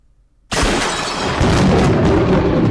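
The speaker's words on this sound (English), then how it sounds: "That's the fucking gunshot that killed my boy Battler." Gunshot in the Umineko visual novel game, a sudden loud booming blast bursting out of near silence and sustaining into a heavy rumbling roar with no voices.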